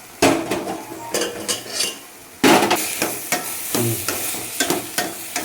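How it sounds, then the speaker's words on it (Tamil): Onions and tomatoes sautéing in a little oil with turmeric in a pan, a spoon repeatedly stirring and scraping in close, clattering bursts over a soft sizzle, with no voices. "லைட்டாக எண்ணெய் ஊற்றி வெங்காயம் தக்காளி வதக்கிட்டு"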